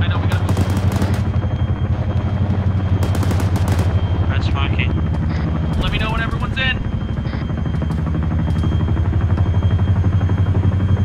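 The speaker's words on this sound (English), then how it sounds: "Heavy fire from something." Heavy automatic gunfire in the military shooter ARMA 3 during a platoon training session, dense loud bursts over a steady engine-like drone resembling a helicopter, with voices talking over the din.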